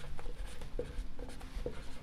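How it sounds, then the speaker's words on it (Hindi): Pen scratching on paper as a maths teacher writes out a Class 10 real numbers problem, a soft continuous scribble with short strokes, fairly close and quiet. "तो लिखेंगे अब यूक्लिड"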